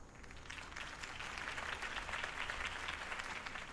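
A crowd applauds after Harvey Dent's campaign speech in the Telltale Batman video game, steady sustained clapping that swells in and holds throughout.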